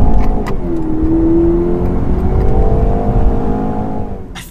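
A 2018 Jaguar E-Pace crossover drives past close and loud, its engine rising in a smooth, sustained whir that settles into a steady drone.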